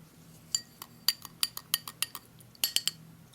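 A metal spoon clinks repeatedly against a container as it is tapped and scraped clean, a quick irregular series of about a dozen bright, close taps, with a small cluster near the end.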